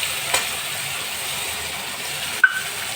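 Turmeric, chilli and salt spices fry in a pan with potato for a thin rohu fish curry, making a soft continuous hiss and sizzle with a couple of brief stirring knocks.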